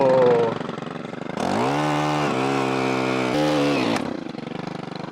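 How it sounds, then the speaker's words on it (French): An engine-powered earth auger drilling holes in the ground outdoors, its small motor revving up loudly to a steady high whine, holding, then dropping back to idle, close by and without talk. "c'est une tarière, donc le but c'est de creuser dans le sol là"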